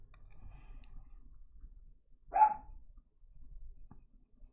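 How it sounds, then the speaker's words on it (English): A single sharp dog bark sounds once, fairly loud, in an otherwise quiet room with faint low rumbling before and after. "Oh, there are the dogs."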